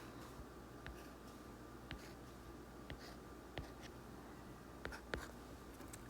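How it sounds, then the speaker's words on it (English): A pen draws a dashed line, giving faint, short scratchy ticks at irregular intervals over a quiet background, each stroke brief and soft. "Draw our dashed line."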